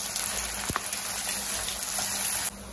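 Chopped onion sizzles steadily in hot oil in a pan as it browns, a continuous broadband frying hiss with a faint thud near the start and no voices.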